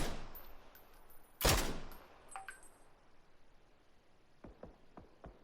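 Gunfire aimed at a player on a bike on the Miramar map in a battle royale video game: one loud close shot, then a few fainter distant cracks spaced out against quiet background hiss.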